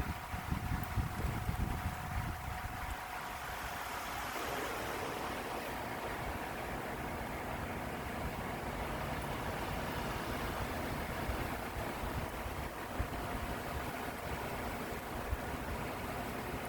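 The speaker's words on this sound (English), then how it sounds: "See what I mean about the wind?" Wind blows hard outdoors on a windy, rainy day, making a continuous broad rush across the microphone. It is heavier and lower for the first few seconds, then eases into a steady roar.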